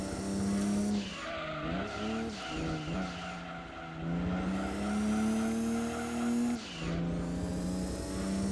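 Tyres squeal and skid in a Gran Turismo 2 endurance race on PS1 at Grand Valley, with long wailing screeches rising and falling over a steady, close engine whine.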